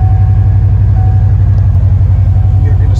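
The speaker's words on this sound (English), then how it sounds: "Fire up the truck." A 1987-1991 Ford F-series truck engine idles with a loud, steady low rumble that stays even throughout, close to the listener.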